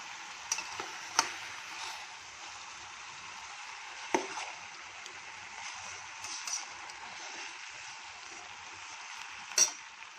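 Onion, tomato and cut eggplant fry in a pan, producing a soft, steady sizzle with occasional sharp taps of a utensil against the pan.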